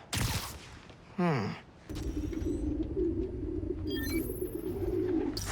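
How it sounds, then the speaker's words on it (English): Pigeons cooing, a city-park sound sample from the video game Spider-Man: Miles Morales, heard as a short burst of soft coos and bird calls over a steady, busy ambient background, with a couple of brief sharp sounds. "Place was swarming with pigeons."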